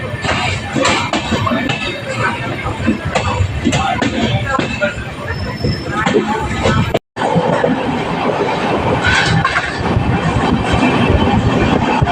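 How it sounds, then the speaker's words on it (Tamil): A train rolls through a station without stopping, giving a loud, steady rumble and rattle broken by one sharp momentary dropout, with murmuring voices in the background. "இந்த ஸ்டேஷன் நம்ம ட்ரெயின் வந்து ஸ்கிப் பண்ணி போயிட்டுருக்கு."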